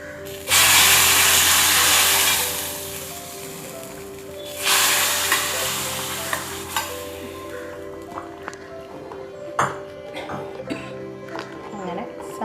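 Sautéed sambar leaves tipped into hot curry give two bursts of bright hissing sizzle that soon settle into a faint crackle, while a cook talks throughout.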